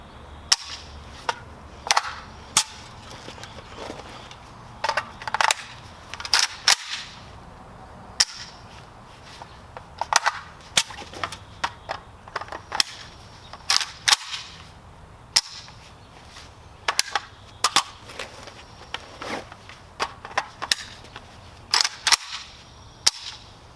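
An AK rifle being reloaded, with sharp metallic clacks and snaps from the magazine and bolt scattered irregularly through a quiet room, some strikes loud and close, others softer.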